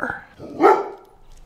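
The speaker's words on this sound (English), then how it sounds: "With the FedEx truck gone, the guard dog is at ease." A guard dog gives a single short bark, close and moderately loud, with a bit of indoor background noise around it.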